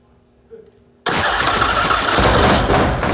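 An orange custom motorcycle from a biker build-off fires up after a second of quiet and a brief murmur, then settles into a loud, steady, rough running roar close by.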